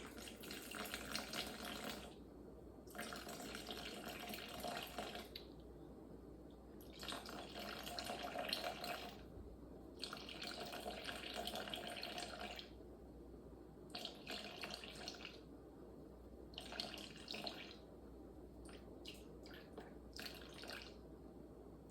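Lukewarm water runs from a kitchen tap for making dough, in several separate bursts of close, splashy flow with short quiet gaps between them, and no talking.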